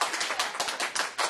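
A short burst of scattered applause, uneven hand claps at close range, quick and loose in rhythm, lasting just over a second.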